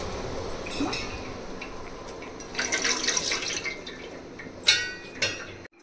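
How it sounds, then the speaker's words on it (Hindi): Water is poured into the base of a dhokla steamer stand set on a gas stove, a brief splashing fill with a few sharper clinks and drips near the end, close and moderately loud. "अब इसमें डालते हैं पहले बेस के लिए पानी"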